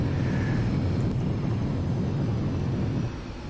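Engines of an Antonov An-225 roar loudly and steadily during takeoff, a thick low rumble that drops off in level near the end, with no talking.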